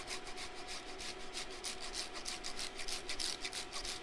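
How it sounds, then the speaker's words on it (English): Parmigiano Reggiano cheese being grated by hand in a kitchen, a quiet, steady raspy rubbing in repeated strokes, heard close up and alone. "let's grate a little bit of Parmigiano Reggiano."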